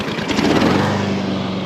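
A gasoline lawn mower engine drones steadily, a buzzing hum with a sharper burst near the start.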